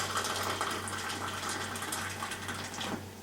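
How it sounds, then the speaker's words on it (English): Hot water pours steadily into a bowl of chocolate cake mix, a continuous close splashing rush with a faint low hum beneath it. "we need to add 2 cups of hot water, which I have standing right here very conveniently"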